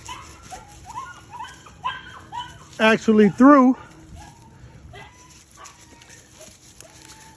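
A litter of puppies at feeding time, with small whimpers and yips rising to a burst of loud high whines in the middle and someone speaking briefly over them.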